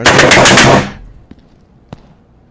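A rapid burst of automatic gunfire rattles loudly in a horror video game for under a second, followed by faint scattered knocks and a brief exclamation.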